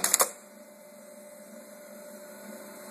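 A Juki LK1900 bar tacking machine sews a small box and cross pattern: a quick burst of sharp mechanical clatter at the start, then a steady low motor hum alone.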